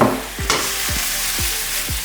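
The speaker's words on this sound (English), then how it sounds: "and get it sizzling away." Steady loud sizzling of homemade vegan meat frying in hot oil, with a few soft stirring scrapes knocking at regular intervals.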